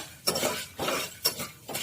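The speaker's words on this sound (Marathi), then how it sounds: "कुकरची शिट्टी आणि वायसर काढून घ्यायचे आपल्याला" Metal parts clink and rattle as the whistle and rubber washer are pulled from a pressure cooker lid, three short bursts of handling noise close by, with no talking.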